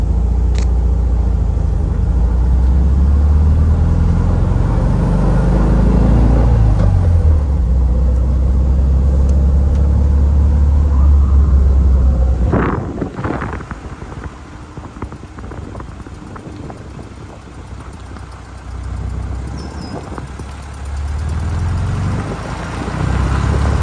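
A 1970 Volkswagen Karmann Ghia accelerates on the road, its air-cooled engine droning loud and close with rising pitch through the gears, then settling to a quieter cruising rumble.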